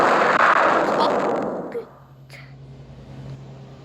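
Bomb explosions on a planet in the space destruction game Solar Smash, a loud broad roaring blast that fades over about two seconds into a low rumble, with a faint sharper crack afterward.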